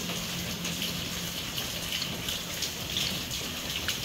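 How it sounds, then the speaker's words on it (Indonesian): Rain falls during a Honda Beat FI motorbike repair session, a soft, even hiss of drops that holds steady throughout, with no one speaking. "Ini kebetulan cuacanya hujan"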